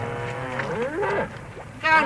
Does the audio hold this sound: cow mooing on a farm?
yes